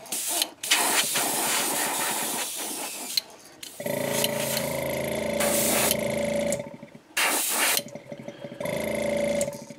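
An airbrush sprays Createch opaque white base coat onto a fishing popper, a steady hissing spray in several long bursts separated by short pauses, close and fairly loud with no talking.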